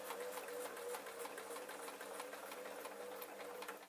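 Sewing machine stitching fabric onto foam for a monkey-shaped purse, a steady rapid mechanical chatter running continuously at close range and moderate volume.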